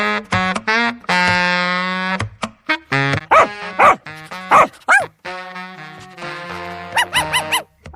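Several village dogs bark and yelp in loud, close, irregular bursts, some drawn-out howling tones mixed with sharp yips, largely without speech.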